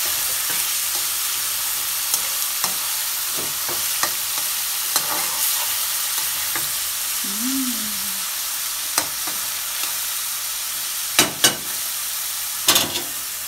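Chicken frying with vegetables such as cauliflower, carrot and capsicum in a home kitchen pan, giving a steady close sizzle with scattered stirring scrapes and clinks, and a few sharper knocks toward the end.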